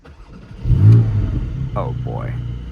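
A Porsche Cayman GTS 4.0 with a 400 hp engine and PDK gearbox fires up with a loud crank and roar close by, then settles into a rumbling idle that rises and falls with two quick revs.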